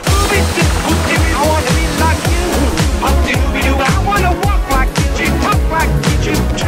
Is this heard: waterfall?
yes